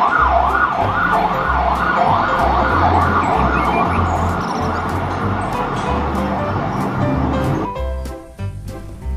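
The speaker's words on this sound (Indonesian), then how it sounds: "lihat teman-teman, ada mobil pemadam kebakaran." A toy fire truck sounds its siren, a loud electronic wail rising and falling in a steady repeating cycle, with a rhythmic low pulsing underneath until it cuts off near the end.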